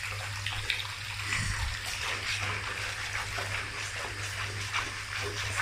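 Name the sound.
bathtub filling with water for a bubble bath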